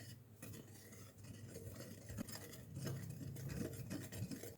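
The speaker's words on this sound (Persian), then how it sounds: "کمی با همزن دستی مخلوطش کنید." Zolbia batter being mixed by hand with a whisk in a bowl, giving a steady, close scraping and stirring patter with faint clinks throughout, no talking.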